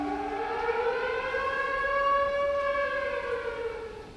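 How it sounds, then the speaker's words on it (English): An Israeli Truah earthquake early-warning alert siren sounds as a steady, loud, layered tone. Its pitch rises and then falls slowly in one long sweep, with no other sounds around it. "This is what an alert sounds like."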